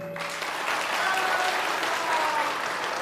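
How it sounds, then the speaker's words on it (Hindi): An audience at a Hindu religious darbar claps steadily, a dense and even wash of applause lasting a few seconds. "पढ़ पाए हो तो ताली बजा दीजिए।"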